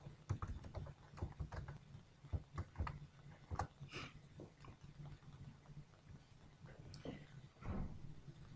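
Computer keyboard keys tapped while entering a command-line command, a quiet, close, irregular series of clicks and taps, alone.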